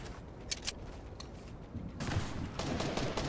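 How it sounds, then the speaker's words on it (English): Gunfire in the video game Fortnite, scattered shots early on followed by denser bursts of rapid firing, moderately loud, with no voice over it. "The kid's shooting at me."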